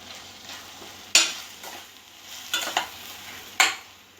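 Onions, chillies, turmeric and salt sauté in a pan for a South Indian tomato kuzhambu, a soft steady sizzle broken by a few sharp scrapes and clinks of a spatula stirring.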